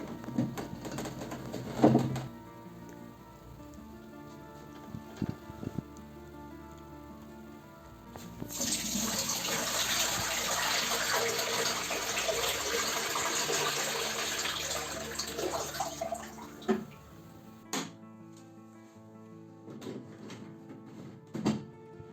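Water is poured out of the tank of an Aircond A-26 dehumidifier, a steady splashing gush of about 3 litres lasting several seconds, framed by quiet plastic handling clicks and thumps.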